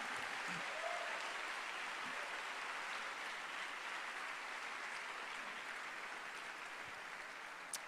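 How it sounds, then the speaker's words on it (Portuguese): A church congregation applauds steadily through a worship service, a dense wash of clapping that holds at an even, fairly distant level for the whole stretch with no voices on top. "Vamos aplaudir forte."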